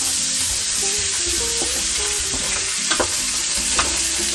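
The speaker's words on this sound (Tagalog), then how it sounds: "I-render natin yung taba nito, guys." Pork fat renders in a hot pan for humba, a steady loud sizzle and crackle with the scrape of stirring and a few sharp spatter pops near the end.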